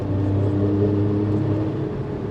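A Daewoo Matiz three-cylinder engine runs steadily nearby, giving a low, even droning hum with a faint whir above it and no clear change in pace throughout.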